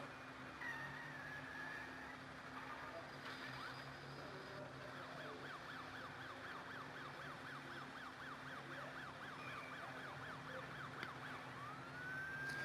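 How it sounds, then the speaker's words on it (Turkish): Police sirens wail continuously during a chase in the mobile racing game Need for Speed No Limits, several overlapping sirens rising and falling under a steady hum of racing engines, with faint volume overall. "Polisler bizi kovalıyor."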